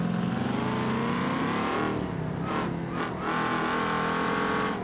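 A supercharged car engine in the driving game BeamNG Drive revs loudly and continuously, its pitch wavering with a couple of brief dips before climbing again, with no talking over it.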